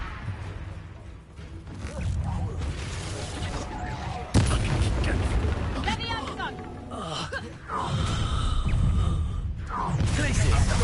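Confringo fire spell explosions in a wizarding video game played on PS4, repeated booming blasts and crackling mechanical clatter under dense game noise, with voices talking throughout.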